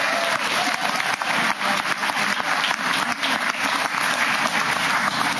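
Steady, loud applause from an audience at a Pennsylvania Republican political gathering, dense clapping continuing without pause for several seconds.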